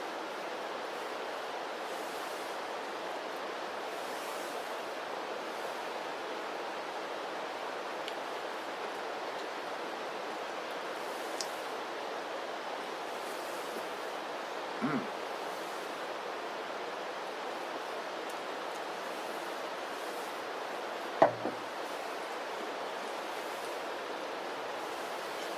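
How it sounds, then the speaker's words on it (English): An MRE flameless ration heater fizzes in its bag as hot water reacts with the chemicals, giving a faint, steady hiss throughout with a couple of small clicks and rustles and no talking. "It's like somehow the hot water is reacting with the chemicals."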